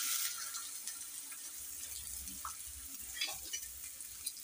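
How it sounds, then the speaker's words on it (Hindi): Chopped onion frying in oil makes a steady, fairly quiet hiss, with a few light clinks and scrapes of stirring. "सबसे पहले हम ऑयल ऐड कर रहे हैं, और साथ में अपना ये प्याज,"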